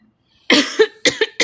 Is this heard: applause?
no